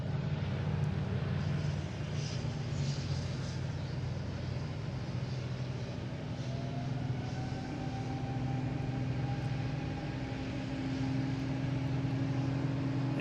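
A Dash 8 turboprop takes off from runway 4 Left at Boston Logan, a steady, fairly faint drone with a low rumble and a slowly rising tone heard from a distance, with no talking.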